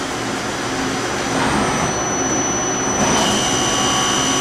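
An Okuma LB25 two-axis CNC lathe turning center with a 40 horsepower drive runs with a dense, steady mechanical roar and whine, close and loud, swelling slightly midway, with no voices.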